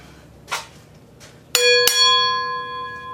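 A cleaned bell-shaped metal part from a 1930 Briggs FH engine is struck twice in quick succession, ringing out with a bright sustained metallic tone that slowly decays, after faint handling noises.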